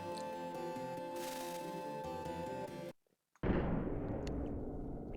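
A cannon fires in the SNES game Secret of Mana: after a tonal musical passage and a brief silence, a single loud burst bangs out and decays into a rushing, fading roar.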